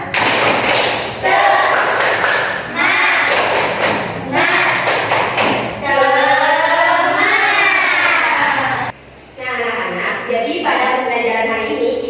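A class of primary school pupils does the 'tepuk semangat' rhythmic clapping chant, with loud patterned claps in quick bursts mixed with children's voices calling along in unison.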